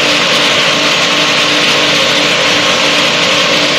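A light experimental aircraft engine at full idle, around 2950 RPM, as it descends to land after a radiator change. A loud, steady cabin drone and whine runs throughout without pause.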